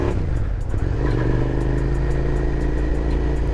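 A 2003 Suzuki SV 650S sportbike with an aftermarket exhaust runs close by, its throaty engine note rising slightly and then holding a steady rumble, loud and alone without speech.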